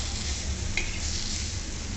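Onion and chopped tomato sizzle and get stirred in a pan for an egg curry, a steady frying hiss with soft stirring scrapes running throughout, close and even, no voices.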